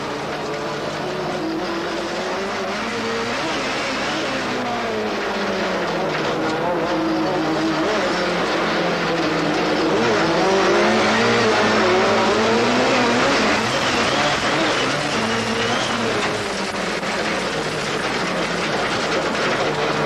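John Welch's rallycross car at a 1986 European championship qualifying race, recorded from on board: its engine roars continuously for twenty seconds, revving up and down through the gears, loud and close, with a rough, rising and falling drone.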